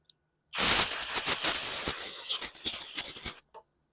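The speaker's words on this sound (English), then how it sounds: "I'm just going to take my air hose and just blast this out with some compressed air." An air hose blasts compressed air into the carburetor of a 2012 Lawn-Boy lawn mower, giving a loud, close, sharp hiss of about three seconds that sputters near its end, then stops abruptly.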